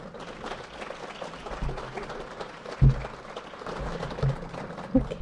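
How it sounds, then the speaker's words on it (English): Audience at a port administration annual meeting applauds the conference panelists, a steady moderate patter of many hands clapping with a few louder claps standing out. "A big round of applause for our panelists."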